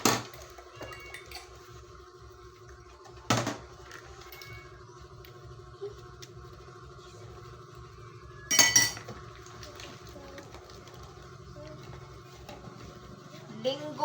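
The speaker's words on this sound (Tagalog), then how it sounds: "Yung maghuhugas guys kasi merong kawali yan." Dishes and a frying pan being washed, with sparse clinks of cutlery and sharp knocks of the pan under steady nearby talking.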